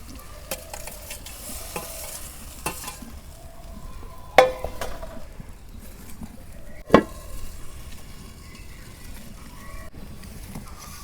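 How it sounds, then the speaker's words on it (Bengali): Potatoes fried with spices in a pan for a village-style rohu fish and potato curry, a low steady sizzle with scraping stirs and two sharp utensil knocks, no talking. "মশলার সাথে আলুগুলো কষে নেব"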